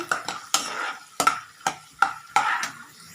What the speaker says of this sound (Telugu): ఒక స్పూన్ ఆయిల్ దీంట్లోకి ఈ పల్లీలు వేసేద్దాము గుళ్ళు వేసేద్దాము ఈ దోరగా గోధుమ కలర్ వచ్చే వరకు వేయించండి